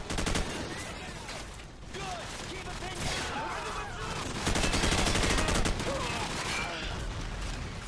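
Sustained gunfire from the video game Modern Warfare, with dense overlapping shots and rapid automatic bursts in a continuous loud firefight, with no talking over it.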